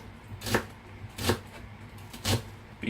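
A knife cuts thin slices of food on a board for a keto English breakfast Thai salad, giving three separate crisp chops spaced about a second apart, close and clear with no talking.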